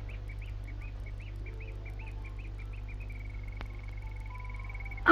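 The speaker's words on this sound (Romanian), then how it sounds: "Auzi păsările?" Birds chirping and twittering around their nests in the evening, a run of short repeated calls drifting into a longer sustained note, fairly faint over a steady low hum from an old film soundtrack.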